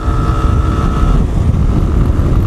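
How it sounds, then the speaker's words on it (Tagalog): A motorcycle rides along a road near Silang, Cavite toward Tagaytay, its engine a loud, steady low rumble with a sustained droning tone that fades partway through, recorded close up with no talking. "Eh, hindi naman kabilisan na aking motor."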